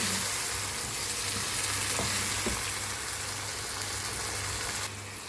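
Leeks simmering in a pan with a splash of water while being stirred, giving a continuous close sizzle and bubbling with a few soft utensil knocks and no voices.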